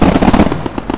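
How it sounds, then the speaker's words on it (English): Fireworks set off in Roblox Bloxburg, a loud rapid string of crackling pops and bursts in quick irregular succession for about a second, close and dense, with no talking. "I lit up fireworks."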